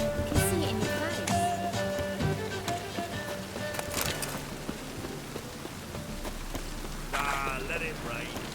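Rain patters steadily on a surface in The Witcher game beneath a busy mix of other game sounds and brief chimes, the downpour continuing throughout.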